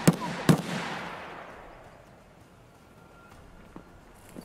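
Gunshots from a bot in Escape from Tarkov, fired through a wall: two sharp cracks close together near the start, each trailing off in a long fading echo, then a couple of faint, distant pops.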